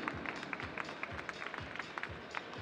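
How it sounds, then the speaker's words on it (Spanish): A crowd applauds female champions at a bodybuilding and fitness contest, a moderate patter of claps with audible individual hand strikes, somewhat distant and steady. "las despedimos con un fuerte aplauso a estas campeonas."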